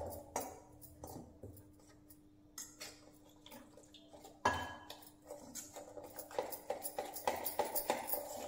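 Spoon clinking and scraping in a bowl while coriander pakoda batter is mixed with garam masala, turmeric and mixed vegetable masala, a run of close, irregular knocks and wet stirring.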